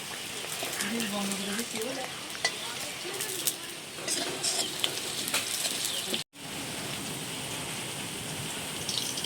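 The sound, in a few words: potatoes frying in a wok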